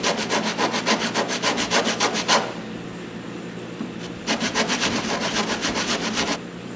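Coarse 36 grit sandpaper roughs up the back side of a wooden piece for a toothpick holder before epoxy gluing: quick, rhythmic, raspy back-and-forth strokes in two close bursts separated by a brief pause.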